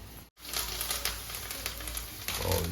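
Steady crackling sizzle of spices hitting hot oil, bright and continuous after a brief silence at the start.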